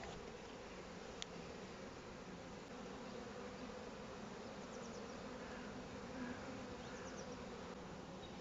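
A dense, steady drone of many honeybees buzzing close by at a hive, continuous and even, with no voices.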